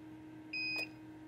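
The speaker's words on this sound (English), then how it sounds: "Press the on button and hold it for several seconds until you hear a beep" A SmartOnline UPS gives a single steady electronic power-on beep, clear and close, lasting under half a second over a low constant hum.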